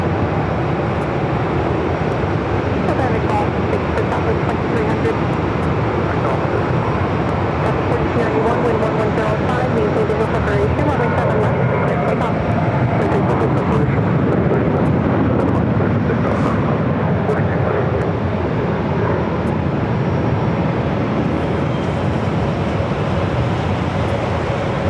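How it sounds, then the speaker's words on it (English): A WestJet Swoop Boeing 737-800 rolls down runway 7 left at Phoenix airport on its takeoff run, a steady, loud broadband engine roar that holds throughout, with a commentator talking over it. "WestJet's heading to Regina, there in Canada, 737-800. Swoop. Flight 1327 now rolling down at 7 left."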